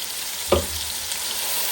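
Hot oil in a pan for a five-spice fish curry sizzles in a dense, continuous hiss, with one sharp pop of splatter near the start.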